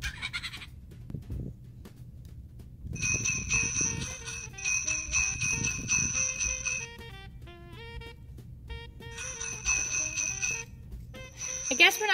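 A Fingerlings baby monkey toy sings a Christmas bells song in bright, tinny electronic tones, phrases repeating with short gaps, while soft background noise and faint talk sit underneath.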